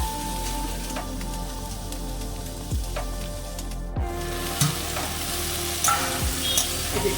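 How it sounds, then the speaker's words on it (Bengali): Snake gourd, pumpkin and potato curry sizzles in a pan as it is stirred, with steady frying crackle and several distinct scraping strokes of the spoon at close range, no voices. "মাঝখানে আর একবার আমি নাড়াচাড়া করে দিচ্ছি"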